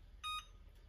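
A kitchen timer used while baking pandesal gives one short, bright electronic beep, alone over a quiet low room hum.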